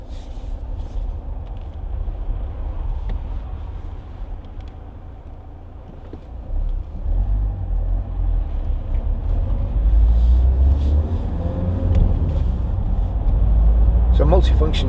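A 2014 Vauxhall Astra 2.0 CDTi ecoFLEX diesel hatchback driving on the road, heard from inside as a low engine and road rumble that swells louder partway through, with a voice talking over it.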